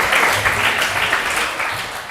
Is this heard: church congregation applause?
yes